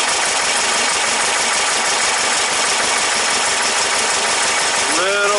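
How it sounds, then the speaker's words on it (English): Engine idling on dual EMPI 40HPMX carburetors during carb synchronization, a steady loud running drone with vibration throughout, and brief tonal sweeps near the end. "You'll notice the engine's vibrating."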